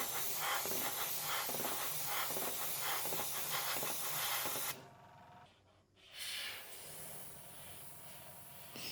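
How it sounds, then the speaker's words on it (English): A steady hiss sprays continuously from a Mr.Hobby PS-268 Procon Boy SQ single-action airbrush, cuts out for about a second and a half, then resumes at a slightly softer level. "As you can see, the airbrush can spray fine lines too"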